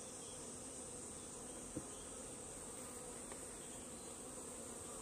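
Honeybees hum around an opened hive during a summer hive inspection, a steady, faint drone of many wings with no speech over it.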